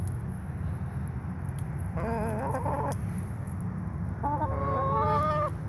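Backyard chickens cluck and cackle in two short bursts over a steady low background hum, moderately close but soft.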